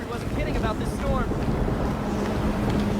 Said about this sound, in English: wasn't kidding about this storm.